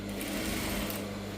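A sewing machine stitches the lining of a saree blouse in one brief, steady, close mechanical whir.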